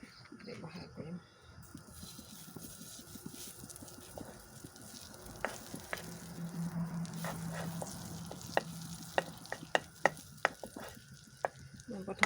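Butter heats in a pan before paneer is added, giving a soft, steady sizzle with light stirring and a few sharp clicks of utensil against pan, fairly quiet and close.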